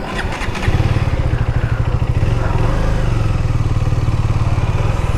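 A KTM Duke 390 BS6 2023 motorcycle pulls away, its single-cylinder engine settling into a steady, loud, close throbbing rumble after a brief clatter at the start, with no talk over it.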